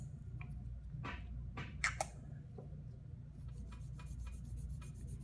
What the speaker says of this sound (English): Gonna always do my edge filing first before I do my surface filing